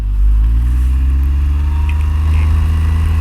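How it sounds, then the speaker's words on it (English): A Can-Am Ryker three-wheeled motorcycle's engine runs loud and close at a steady, rumbling idle throughout, with no pauses or other sounds. "When you start your bike up"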